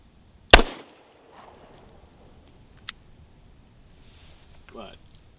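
A single loud, sharp shot from a Smith & Wesson J-Frame .38 Special revolver cracks near the start, followed by a small distant pop and quiet murmuring voices afterward.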